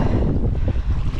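Large waves slapping against a fishing kayak on a lake during a storm, a dense low rumbling wash of water with wind buffeting the microphone, loud and close.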